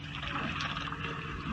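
A steady, continuous mechanical drone with a broadband watery rush from a water pump engine running nearby with flowing water, in Hwange National Park, Zimbabwe.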